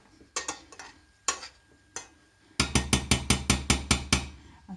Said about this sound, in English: gently squidge it with the potato masher